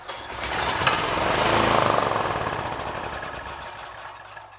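A Generac generator engine runs briefly on primed fuel with the choke on, giving a loud, rough, rattling mechanical drone that rises and then fades as it begins to die out.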